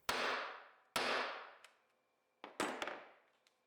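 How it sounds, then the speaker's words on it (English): A leather punch snaps through a cardboard template cut from a beer box. Several sharp, loud, close-up clacks each ring briefly, and the last ones come in a quicker cluster. "These holes were then cut with a leather punch, as they do a very nice job of cutting cardboard."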